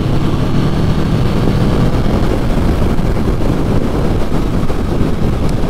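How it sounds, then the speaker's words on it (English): A 2020 Yamaha VMAX 1700 motorcycle pulls hard at wide open throttle in fifth gear, a steady loud engine roar blended with heavy wind rush, continuous with no talking. "So here's 60 again in full wide open throttle in fifth gear."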